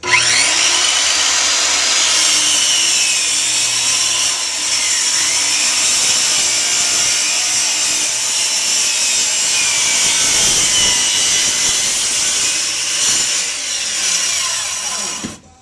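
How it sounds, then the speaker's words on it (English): A power saw cuts through a wooden boat deck during demolition, a loud, continuous close-up grinding whine that holds steady with slight shifts in pitch as the blade works through the wood. "see if we can't cut this deck out"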